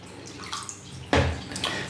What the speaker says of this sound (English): what I'm going to do is just take a little water out in a jug